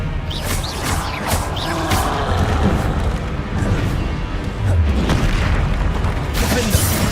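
Confringo fire spell explosions in Hogwarts Legacy, a series of booming bursts and crashes over busy game effects, with one heavier blast past the midpoint.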